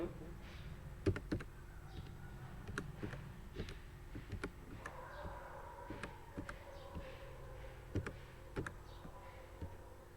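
Irregular computer keyboard clicks tapping away at a moderate pace while entering Excel formulas, with soft room noise and faint speech underneath.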